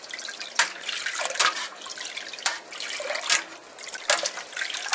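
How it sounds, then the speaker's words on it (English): Hard cider being stirred during brewing, giving a continuous wet sloshing and swishing of liquid with periodic louder surges as the stirring changes direction, close and steady with no talk. "So 5 minutes of stirring."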